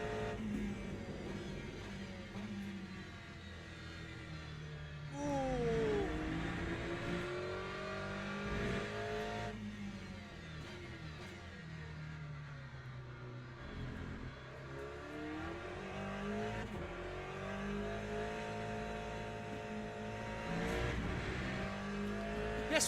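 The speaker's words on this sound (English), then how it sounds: "Let's see what this Aston Martin can do." An Aston Martin race car in the Le Mans Ultimate racing game, engine droning loud and constant, its pitch climbing and falling through gear changes and braking, with tire squeal and skidding woven through the sustained roar.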